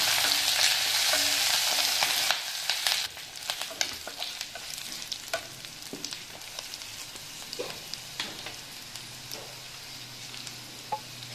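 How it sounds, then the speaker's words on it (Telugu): Curry leaves and spices fry in a pan, first as a loud, dense sizzle and then as quieter, steady crackling with scattered pops and stirring scrapes, all close by. "ఇందులో కొంచెం కరివేపాకు కూడా వేస్తున్నాను. ఇవన్నీ ద్వారగా వేయించుకుందాము."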